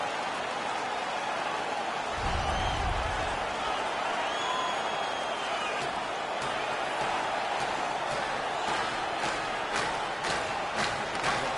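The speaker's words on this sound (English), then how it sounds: "The crowd is ecstatic." Arena crowd roaring steadily throughout an NHL 16 hockey game after a fight, a dense sustained cheer with a brief low rumble early on and scattered claps near the end.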